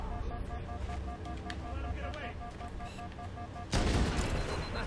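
Gunfire in the video game Halo Combat Evolved Anniversary, a low rumbling battle backdrop with a sudden loud burst of shots near the end, while a player's voice talks over it.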